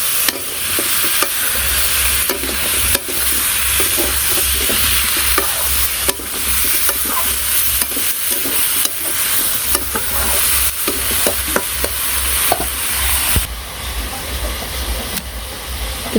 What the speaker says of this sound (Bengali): এখন ভালো করে আরেকটু ভাজি দিই,